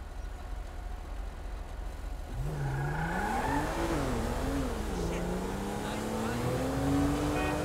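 A car engine in Grand Theft Auto V on PS5 starts rising and falling in pitch as the car accelerates and shifts, with steady road noise and faint game sounds behind a moderate, continuous drive.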